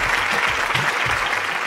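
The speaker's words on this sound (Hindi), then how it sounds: "उनके लिए तालियां" Studio audience applause for contestants on a live Pakistani game show, a brief, loud, even burst of dense clapping with a low rumble underneath.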